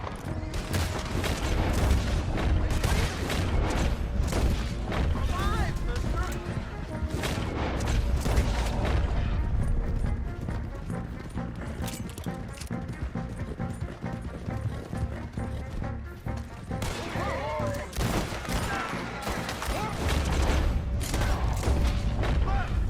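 Gunfire from a Red Dead Redemption 2 shootout rattles almost continuously as dense volleys of shots, mixed with hoofbeats, thuds and game effects throughout, with shouting voices in the mix.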